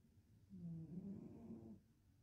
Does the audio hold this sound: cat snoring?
yes